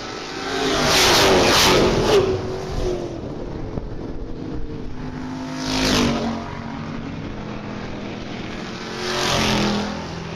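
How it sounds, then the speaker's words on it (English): Stock cars in an ABC Stock Car B-Group feature race at Springport Motor Speedway roar past, with three loud engine surges that rise and fade as the pack sweeps by, separated by a lower, steady track rumble. "Cars scatter behind the 8 of George Spear down the back straightaway"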